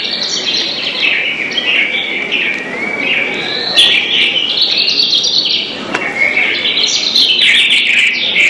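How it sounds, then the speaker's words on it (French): Birds sing at dawn in a steady, dense chorus of bright chirps and trills that overlap continuously and sound fairly close and lively throughout. "J'aime le réveil à l'aurore, la musique des oiseaux à cette heure toujours frugale"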